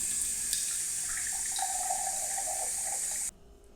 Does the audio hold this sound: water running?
yes